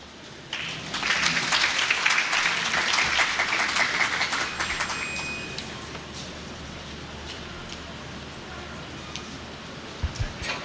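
Applause from one side of an audience at a government imbizo public meeting swells quickly into dense, loud clapping, then gradually thins and fades to a quieter room with a few scattered claps near the end.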